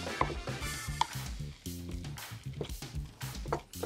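Accras batter with chevaquines is mixed by hand in a bowl, giving wet, squishy stirring sounds in an irregular rhythm, close and fairly quiet with no talking.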